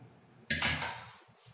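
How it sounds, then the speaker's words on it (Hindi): A cooking pot (tapeli) is picked up and set down on a kitchen counter while mango panna is being made, giving a single close metallic clank followed by a brief scrape. "अब हम एक तपेली लेंगे।"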